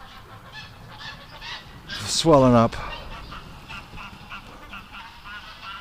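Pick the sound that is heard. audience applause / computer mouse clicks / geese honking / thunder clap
geese honking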